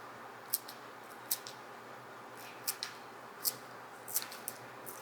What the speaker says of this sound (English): We're just gonna go ahead and snip those right over top.